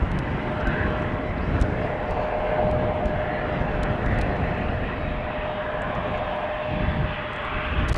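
A CRJ jet taxis toward the runway threshold at Schiphol Airport, its engines a steady, fairly close whine and rumble that holds for the whole stretch without any voices.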